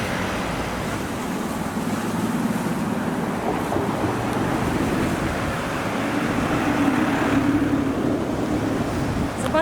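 Sea waves along a coastal walkway near Portofino, with a street on the other side, make a continuous, fairly loud wash of surf, mixed with wind noise and distant traffic rumble throughout.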